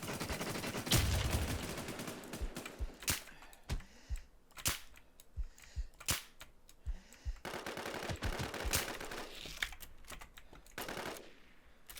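Rapid bursts of gunfire in a shooting video game, sharp cracks coming in quick runs and single shots across the stretch, with a dense volley near the start and steady firing throughout.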